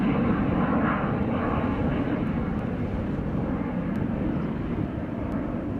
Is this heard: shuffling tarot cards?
no